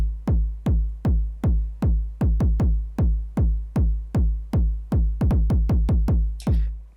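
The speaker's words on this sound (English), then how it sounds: "So first up, we have the kick without anything." A dry hard techno kick drum with no effects hits in a steady four-on-the-floor run, each punchy thump decaying quickly, with a few doubled hits breaking the pattern near the end.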